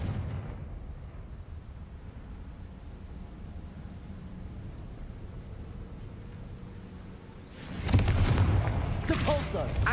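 A fiery Confringo spell blast in the Hogwarts Legacy video game bursts loudly near the end, after a low rumbling ambient bed, followed by crackling debris.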